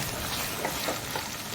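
Leftover masala being stirred into a frying chicken tikka biryani base, a steady close sizzle with soft scraping stir strokes throughout, no voices.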